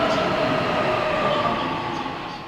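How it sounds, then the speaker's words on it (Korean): A metro train bound for Yangsan rolls into a station platform in Korea, a loud sustained rumble with a high whining tone that slowly fades as it slows, with no talking. "양산행 열차가 들어오고 있습니다."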